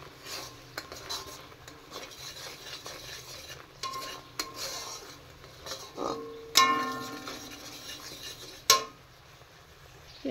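Mango pulp with spices is stirred in a metal pot, making quiet scraping and rubbing with scattered sharp clinks of a spoon against the rim. The sound stays faint and close.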